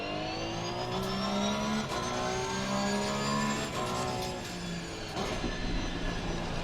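Porsche race car in a sim racing game at Monza, engine revving hard with rising and falling pitch through gear changes, loud and continuous with no voices.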